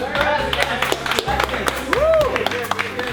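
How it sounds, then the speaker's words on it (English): A group claps for the cooks in a restaurant kitchen in Lima, Peru: a few seconds of scattered, lively applause up close, with voices chattering and calling out over it. "us going into the back and clapping for the cooks"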